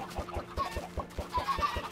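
Minecraft chickens from a modded Industrial Craft 2 game clucking in quick regular pulses, a close, steady run of short clucks with a few higher chirps over it.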